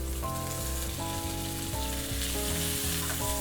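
Onions hitting olive oil in a hot pan for Korean royal court stir-fried rice cakes, giving a steady, close frying hiss with a tonal hum and periodic clinks underneath.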